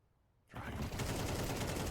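A burst of AK rifle fire in Counter-Strike 2 erupts suddenly after near silence and continues as loud, rapid, sustained automatic shooting in a competitive match.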